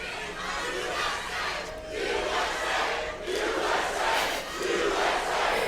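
A protest crowd shouts in loud, continuous waves that surge and fade every second or so, a massed roar of many voices drowning out a smaller group of protesters.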